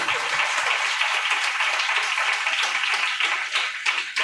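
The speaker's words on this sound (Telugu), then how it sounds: "చప్పట్లు కొట్టి ప్రభువుని కనపడదాం" Prayer meeting congregation clapping together, a dense, steady wash of many hands filling the room without a break, close and fairly loud throughout.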